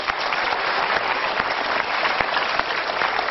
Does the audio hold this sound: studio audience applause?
yes